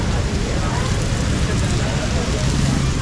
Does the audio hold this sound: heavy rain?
yes